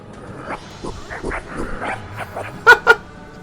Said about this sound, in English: It sounds like a little puppy, a little Jack Russell.